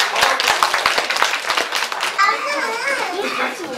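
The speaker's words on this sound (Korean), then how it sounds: "큰 박수로 맞이해주시기 바랍니다" Audience applause welcoming a skit at a church fellowship night: a burst of hand clapping in the first two seconds, then excited whoops and children's voices cheering in the room.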